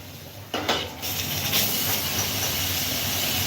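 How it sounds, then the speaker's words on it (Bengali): Eggplant slices for begun bhaja frying in hot oil: a brief quiet moment, then a sudden rush of broad, steady hiss that carries on evenly, with no talking. "তো আমি এখানে ভাজছি বেগুন ভাজা"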